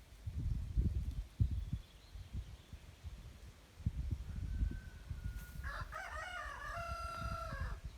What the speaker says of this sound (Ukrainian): Ось там наш півник